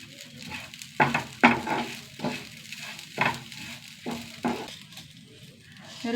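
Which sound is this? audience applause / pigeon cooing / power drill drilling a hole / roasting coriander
roasting coriander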